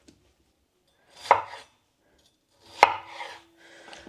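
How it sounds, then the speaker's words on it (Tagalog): Peeled potatoes being chopped into small pieces on a board, heard as two sharp knife strikes, each followed by a short scraping rattle, with a faint low hum near the end. "Kaya nabalatan ko na yung mga patatas. Hihiwain na natin sa maliliit."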